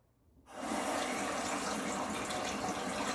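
Tap water gushes steadily into a sink while a safety razor and face are rinsed after a shave pass with a Wolfman WR1 razor, a sudden loud onset that then flows on evenly and close.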